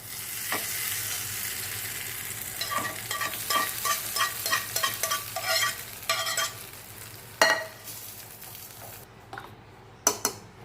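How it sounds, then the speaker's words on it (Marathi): A tempering of cumin, mustard seeds and curry leaves hits a quick chutney and sizzles. A spoon stirs with rapid scraping strokes, followed by a few louder clinks against the vessel. "आता तडका हे चटणीवर टाकून घेऊया"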